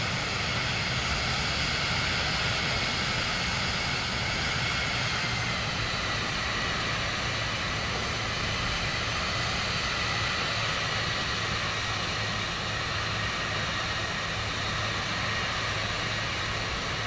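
Airplane engine in Microsoft Flight Simulator 2024 on PS5, taxiing fast on the ground: a steady, loud, continuous drone with a low hum that holds unchanged throughout, no talk over it.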